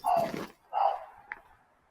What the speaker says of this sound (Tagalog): May aso yun. Husky pa.